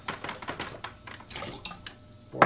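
Liquid pours from a pH 7 buffer calibration cup of a Eureka Manta2 multiprobe during sensor calibration, making a soft, uneven splashing trickle that ends in a louder splash.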